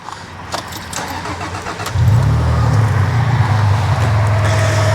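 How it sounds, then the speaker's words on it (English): MG ZT 190 with a KV6 engine starting: a quiet stretch gives way to a loud crank and catch about two seconds in, then the engine settles into a steady, strong idle. "Now if we just start the car up, I'm pretty sure I left it in neutral."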